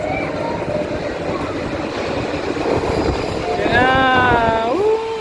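A train pulls into a station in the Czech Republic, a steady rumble building, then a loud, high, wavering brake squeal near the end, with people talking over it.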